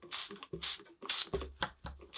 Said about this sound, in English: I'm spraying it with water. This is just water, nothing else added.